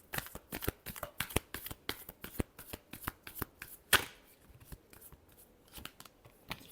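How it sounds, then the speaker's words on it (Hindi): Tarot cards being shuffled by hand, a steady run of crisp riffling flicks and slaps close up, with one louder burst midway, alone without talk. "Last shuffle."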